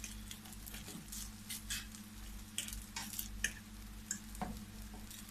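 Egg fried rice made with leftover rice sizzles steadily in a hot pan as it is stir-fried, with a continuous crackling hiss broken by scattered louder pops and the occasional clink of stirring, heard alone with no talk.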